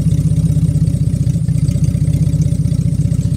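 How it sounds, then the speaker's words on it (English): A car engine with gutted catalytic converters idles close to the microphone, a loud, steady low rumble with a rapid, even pulsing throb throughout. "That's what the idling sounds like right now with the gutted cat converter."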